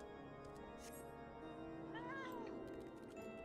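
A cat meows in Final Fantasy XIV, a rising and falling mew heard over continuous layered game music and ambience, fairly quiet in the mix.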